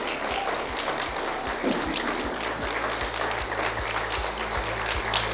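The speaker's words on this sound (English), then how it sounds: "please give a nice round of applause to Erin Simon" An audience claps for speaker Erin Simon at a speaker series event, a dense, steady applause with regular low thumps running through it, fairly distant and sustained without talk.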